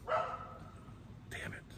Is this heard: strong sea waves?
no